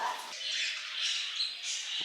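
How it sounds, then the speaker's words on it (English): Harsh, high squawking calls from birds in the desert area of Paignton Zoo, overlapping and continuous, fairly close. "Birds everywhere."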